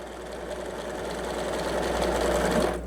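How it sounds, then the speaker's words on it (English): A home sewing machine stitches fabric along a marked line while piecing half-square triangle quilt blocks, a steady close whirring drone with a fast mechanical rhythm that builds slightly and runs continuously. "And go again and sew right inside the line."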